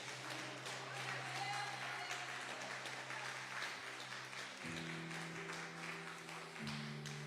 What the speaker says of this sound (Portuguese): Vocês podem aplaudir ao Senhor pela vida deles.